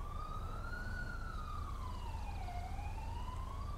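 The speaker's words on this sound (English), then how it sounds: "I'd need a fucking mod made where it disables their fucking siren." A police siren from an LSPDFR-modded GTA V game wails steadily, rising and falling in a smooth slow sweep over a constant low engine and road rumble, loud and continuous throughout.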